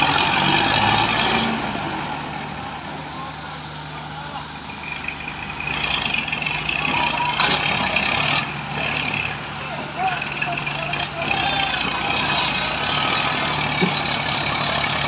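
A tractor engine runs steadily, loud and close, with a dense continuous rumble and some rises in intensity, while people talk over it outdoors.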